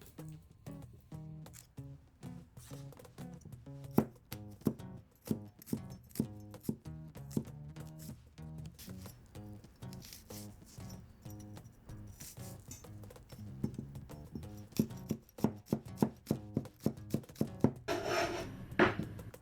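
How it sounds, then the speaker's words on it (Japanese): A knife minces garlic on a cutting board in quick, close, rhythmic chops that speed up into a dense flurry of taps toward the end. "ニンニクみじん切り"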